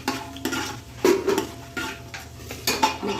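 Whole spices (bay leaf, cloves, cinnamon, cardamom, fennel and shahi jeera) stirred and fried in a pan for chicken biryani: a spoon scrapes and clanks against the metal in uneven strokes over a soft background sizzle, close and without speech.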